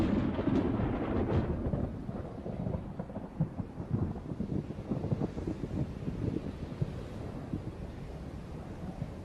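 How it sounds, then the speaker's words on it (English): Thunder from summer electrical storms over the desert rumbles low and continuous, mixed with gusty wind noise buffeting the microphone throughout, with a few sharper cracks early on. "Throughout the summer, electrical storms roll across the desert."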